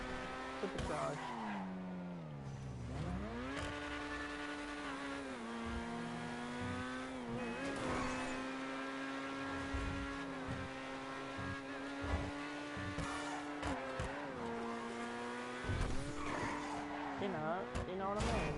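A fast four-wheel-drive twin-turbo supercharged car in GTA revs high with a rising and falling engine whine and tire squeals, continuous throughout while someone talks over it.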